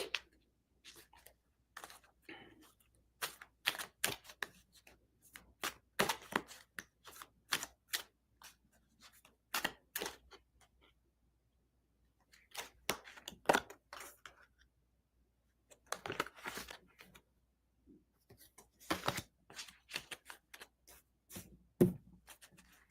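A deck of cards is shuffled in short, quiet bursts of riffling and snapping, separated by brief pauses of near silence.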